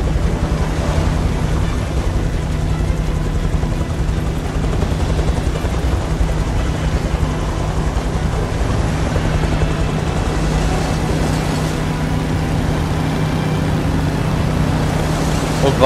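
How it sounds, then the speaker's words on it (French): Helicopter in the video game Beyond Two Souls: a loud, continuous rotor and engine drone with a steady hum, unbroken throughout, alone without talk. "il y a un hélico, c'est parfait"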